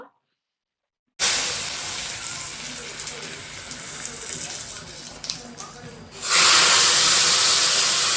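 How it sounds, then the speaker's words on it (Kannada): Tempering for boiling dill-leaf sambar hits the pot after a moment of silence, bursting into a sharp, steady hiss and crackle that swells louder near the end. "ಏನು ಸಾಂಬಾರ್ ಕುದೀತಿರುತ್ತೋ ಅದಕ್ಕೆ ಒಗ್ಗರಣೆಗೆ ಹಾಕೊಂತ ಇದ್ದೀನಿ ಇವಾಗ"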